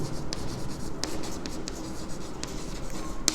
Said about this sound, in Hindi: तो मैं लिखता हूँ यहाँ पे